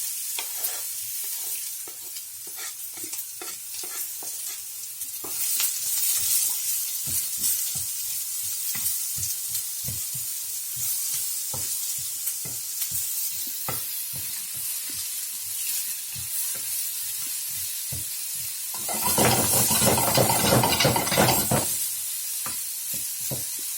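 Onion and garlic frying in a pan for a Bangladeshi pointed gourd bhaji, a continuous sizzle broken by repeated spatula scrapes and stirs, with a louder burst of crackling near the end.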